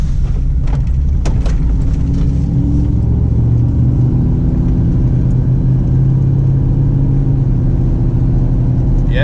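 A car driving around the block, heard as a continuous low engine rumble and road noise from inside the vehicle, steady and loud with a few faint clicks early on.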